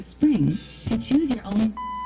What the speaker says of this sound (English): there's our 4 beeps letting us know that this control is now adjusting the left-right balance